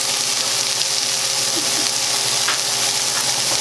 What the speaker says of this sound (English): So we're gonna saute this up for about 3 minutes